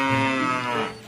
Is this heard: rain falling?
no